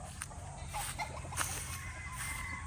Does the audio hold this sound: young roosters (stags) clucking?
yes